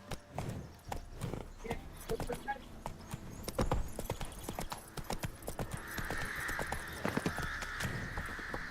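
Roach, Geralt's horse in The Witcher 3, trots with crisp, regular hoofbeats, close and prominent, and a faint whinny and bird calls sit in the background.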